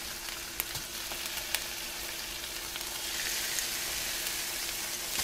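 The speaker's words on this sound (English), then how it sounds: "Ooh, I love that sizzle." Eight fish fillets, crappie and bass caught from a creek, sizzle steadily in a frying pan, a dense crackling hiss with occasional pops that grows slightly louder partway through, with no talk.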